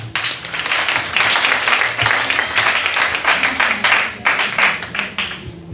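A church congregation claps and applauds steadily for several seconds during a French-language sermon on tithing, dense and loud throughout with slight swells.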